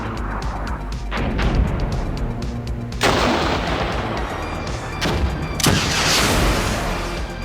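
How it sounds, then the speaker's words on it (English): Mortar rounds and battlefield guns in the Armored Brigade II war game, heavy booms and crashes over a constant rumble of distant gunfire, with two big blasts standing out partway through. "There goes that last mortar."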